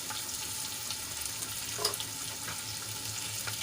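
A slit green chilli fries in oil with reddened garlic for a methi papad curry, an even close sizzle with soft crackling and one brief clink partway through, no talking.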